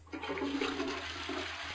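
A toilet flush in the horror video game Television Terror: a single short rushing gush of water, close and fairly loud, lasting under two seconds over a low steady hum.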